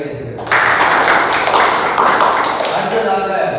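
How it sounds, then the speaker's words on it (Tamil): An audience claps after a speech, starting abruptly as a dense, loud wash of applause that holds steady and then tapers slightly toward the end. "கைத்தட்டுங்கள்."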